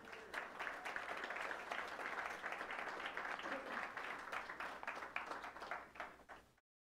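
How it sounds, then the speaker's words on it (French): Congregation at a Sunday church service applauding a woman invited forward, brisk clapping from a modest crowd that thins and fades out at the end, with faint voices underneath. "Je pense qu'on devrait l'applaudir"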